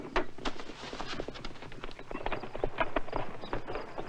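Horse hooves clip-clop in a quick, uneven rhythm, a run of sharp knocks fairly close and moderately loud with faint background noise.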